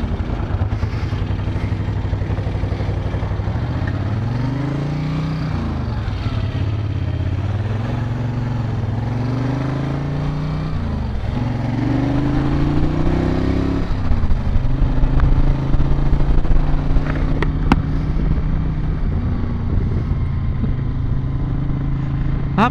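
A 1970s Moto Guzzi California cruiser motorcycle engine idles and revs steadily at close range, its pitch rising and falling through several blips of the throttle, with mechanical clatter growing slightly louder toward the end.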